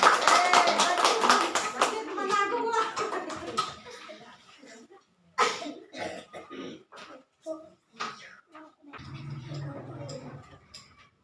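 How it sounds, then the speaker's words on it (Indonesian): A small group in a classroom claps for a classmate during a practice lesson, a quick burst of dense clapping that thins into scattered claps, with some talk. "tepuk tangan untuk saudara Maureen"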